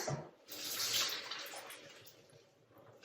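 Hot pasta water cooked in a microwave pours through a simple strainer into a kitchen sink, a rushing splash that swells and then tapers into a softer trickle, close and alone with no voices.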